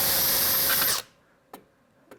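A power drill boring holes into a board during wiring work runs loud and steady for about a second, then cuts off, leaving only a couple of faint clicks.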